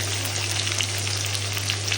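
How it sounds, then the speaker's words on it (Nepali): Chopped onion frying in hot oil for a fish soup, a steady, close sizzle with crackling throughout, with a low constant hum underneath and no talking. "यो भइसकेपछि यसमा तपाईँले काटेर राखेको प्याज हालिदिनुहोस्।"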